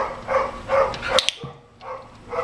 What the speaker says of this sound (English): How do you like that little back bark?